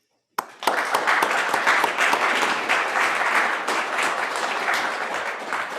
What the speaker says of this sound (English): I would like to give the board of directors a huge round of applause for the work they did